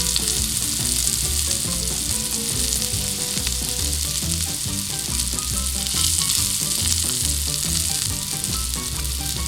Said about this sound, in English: You hear that pan sizzling?